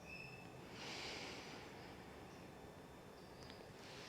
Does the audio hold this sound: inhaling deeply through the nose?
yes